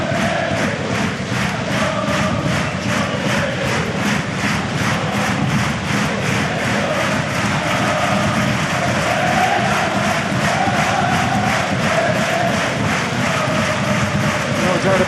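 A football crowd roars steadily in a stadium during a Dundalk FC versus FC BATE Borisov match, loud dense voices and chanting sustained throughout with a rhythmic pulsing clap or chant pattern.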